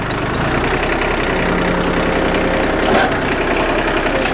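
An old diesel tractor engine idles close by, a loud, steady rhythmic chugging with a knocking pulse that holds constant throughout without voices.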